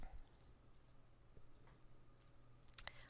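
A soft, close mouse click sounds in a quiet room while saving in course-building software, with a few faint scattered ticks around it and no talking.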